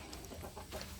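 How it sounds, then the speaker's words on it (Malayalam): Backyard hens cluck softly in short repeated calls close by, over a steady low ambient background with no talking. "ഇതാണ് എൻ്റെ കോഴികൾ."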